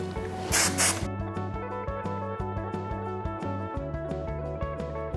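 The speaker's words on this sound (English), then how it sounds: "I'm gonna fix it for the finish with strong hairspray." A short burst of strong-hold hairspray hisses for about half a second, then stops, leaving background music playing underneath.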